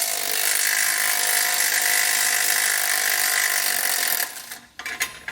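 Steady whirring of a power tool or impact driver with a 16mm socket taking a frame bracket off a 2021 Jeep Wrangler, loud and continuous for about four seconds before cutting out into a few short bursts.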